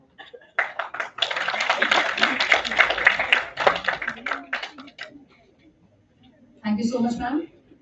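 Applause from a seminar audience, a burst of scattered hand claps that swells and then fades, followed after a pause by a short clip of voices talking.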